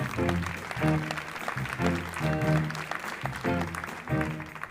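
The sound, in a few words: concert audience applause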